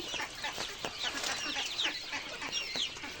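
Egg-laying quails on a farm call in a series of short, chirping, clucking notes, close and moderately loud, repeating irregularly against a faint background.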